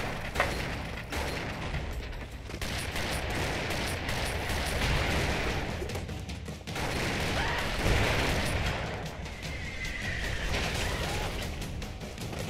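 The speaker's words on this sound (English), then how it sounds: "They're using the Chuck Norris freaking explosions on us." Explosions and gunfire from the video game Broforce boom and crackle in a dense, continuous barrage, loud and near throughout with no pause.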